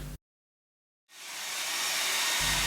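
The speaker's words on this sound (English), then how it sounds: "A quick blast with the hairdryer." Hair dryer blowing on a watercolour painting, switching on after a brief silence and rising into a steady, close whooshing hiss that builds in loudness and keeps running.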